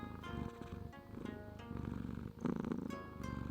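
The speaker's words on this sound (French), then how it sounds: "Il s'y mit à ronronner." A cat purrs steadily while having the back of its neck scratched, a soft continuous rumble close by with faint pulsing, no voices.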